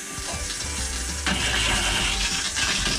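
Shower faucet in a Georgetown Class A motorhome running pink antifreeze solution through the plumbing during winterizing, a steady rushing flow that grows louder and brighter partway through, continuous with no talking.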